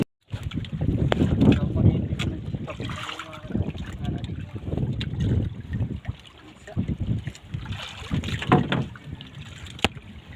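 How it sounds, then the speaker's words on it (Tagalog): Gusty wind buffets a small fishing boat on choppy sea, with irregular water splashes and slaps against the hull, close and uneven, and a voice briefly heard. "mahangin mga katangay. Malalaki-laki konti yung alon."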